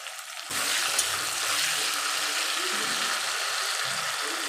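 Tomato egg curry masala with rock salt cooking in a pan makes a sudden broad, steady sizzling hiss that starts after a brief quiet moment and holds evenly to the end.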